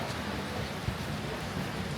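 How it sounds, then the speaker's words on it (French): Steady rain pours down at the end of the rainy season in Indonesia, a dense, continuous hiss with a soft low rumble and one brief knock partway through, no voices. "Et il pleut encore."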